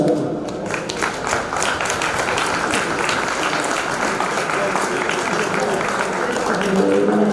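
An audience at a Haiti Premiere Classe event applauds in a dense, sustained burst of clapping that carries through to the end, with voices mixed into it.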